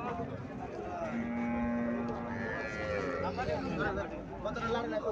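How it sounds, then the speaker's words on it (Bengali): At a cattle market, a Sahiwal calf and a local cow moo, with a drawn-out low call in the middle amid busy crowd chatter and people talking nearby. "বাছুরটা ভালো আছে, বাছুরটা বড় আছে সাইওয়াল জাতের বাছুর।"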